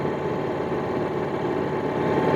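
A Powerhorse 7500i inverter generator, 7500 watts, runs in economy mode at a low, steady idle with a continuous droning hum, close and even, with no voices.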